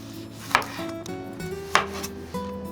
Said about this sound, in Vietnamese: Mình cắt nhỏ tỏi ớt và trộn vào ăn kèm cho thêm hấp dẫn nè